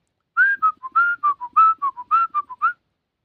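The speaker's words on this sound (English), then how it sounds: "And I just sit here and just whistle." A person whistles a lively, warbling tune up close: a quick run of short pitched notes and slides, loud and clear, with no talking.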